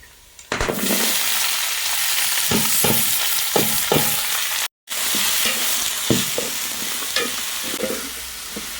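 Shallots, tomato, onion and green chilli frying in a pan, a loud, close, continuous sizzle with rhythmic scraping strokes of a spoon, briefly cut off for a moment midway.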